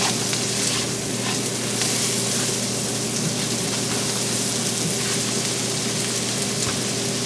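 Minced garlic frying in a pan for bourbon barbecue sauce makes a dense, steady hiss and crackle like light rain, constant and close throughout, with no speech.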